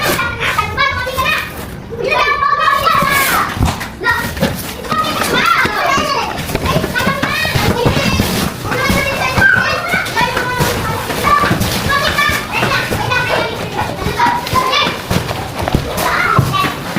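Children playing close by in a busy home setting, with a steady stream of overlapping kids' voices, shouts and chatter that runs throughout at a fairly loud, constant level.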